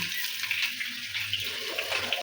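Cooked rice tipped into a strainer, with a steady rushing pour of draining water that runs continuously for a couple of seconds at close range before stopping suddenly.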